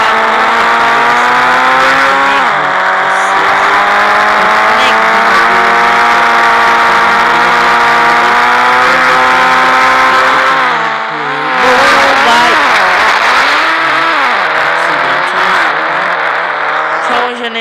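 A car in a city-driving video game runs with a loud, steady engine drone, rising and falling in pitch as it revs, with a brief dip and a surge of acceleration partway through; no talking.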